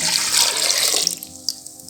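Water from a tap pours steadily into lentils for Indian dal with turmeric and red chili powder, a loud splashing rush that thins out into a few drips.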